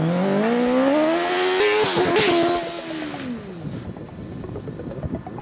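A Formula Student race car launching on an acceleration run, engine note climbing sharply through gears, loud and close at first, then receding into a rattling, fading rumble.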